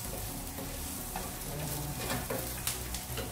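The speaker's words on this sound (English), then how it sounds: "And then I'm frying some onions to add as garnish on top of the" Onions fry in hot oil for a mutton kofta biryani garnish, a steady close sizzle with occasional stirring clicks and scrapes and no talking.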